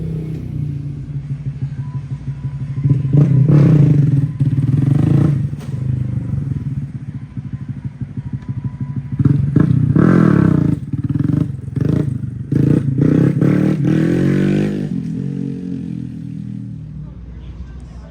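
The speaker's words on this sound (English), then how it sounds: "And Talon is trying to practice his wheelies" A motorcycle engine at a bike week gathering revs up in two surges while the rider practices wheelies, with nearby voices talking over the rumble.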